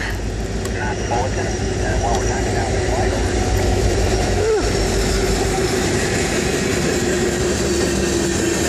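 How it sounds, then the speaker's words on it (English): A train rumbles steadily past at close range, a continuous loud roar with rhythmic rail clatter throughout. "We do have a train coming at us."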